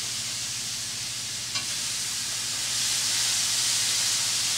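Peppers and onions sauté in a pan with a steady, close, bright hiss, a low hum underneath and one brief click partway through. The sizzle swells slightly louder toward the end.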